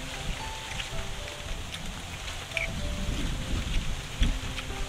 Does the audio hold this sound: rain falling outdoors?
yes